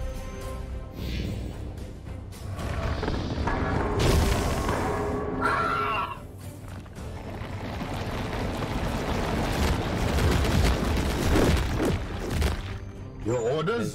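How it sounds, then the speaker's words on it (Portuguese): Covering fire shots in Warhammer 40,000: Chaos Gate Daemonhunters, heavy booming impacts and crackling blasts mixed with game music and effects, with someone talking over parts of it. "tiro de cobertura"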